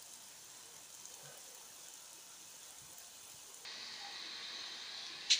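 Rain begins to fall in a garden near a compost heap as a soft, steady hiss that grows slightly louder partway through, with no voices.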